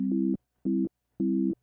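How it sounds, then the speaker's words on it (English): A Dexed DX7 FM synthesizer plays a plain sine-wave tone in three short, identical, evenly spaced beeps, clean and alone. "A typical sine wave."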